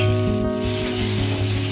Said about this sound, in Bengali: এইবারে একটা পেঁয়াজ দিয়ে দেবো